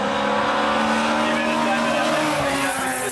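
A V8 Ford Capri rally car roars and skids on a classic rally stage, a steady loud engine drone with tire noise filling the whole moment and no pause.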